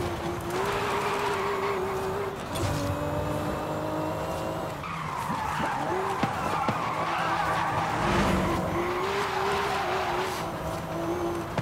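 A 1150 hp Toyota Soarer drifting in Forza Horizon 5, its engine roaring steadily while the tires squeal and skid through long slides, loud and close throughout.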